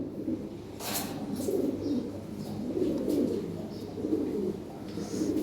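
Lahore pigeons coo together in low, overlapping rolling calls that swell and fade in waves, close by, with a few brief rustles or flaps mixed in and no talking.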